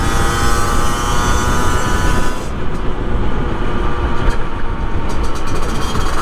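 A 50cc two-stroke motorbike rides along a rural Sussex route, a loud steady engine and wind roar throughout that drops in its high buzz partway through while continuing to drone.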